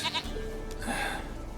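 A goat in The Witcher 3 video game bleats in a few short, wavering cries that carry clearly over steady game ambience, with no talking.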